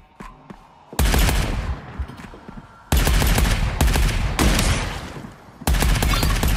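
Assault rifle fire in the shooter game Arcadegeddon: three long, loud bursts of rapid automatic shots, close and dense, separated by brief pauses.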